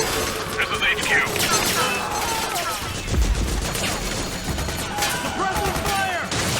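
Gunfire rattles in dense, overlapping bursts throughout a Metal Gear Solid 4 battle, loud and close, with shouting voices mixed into the chaos.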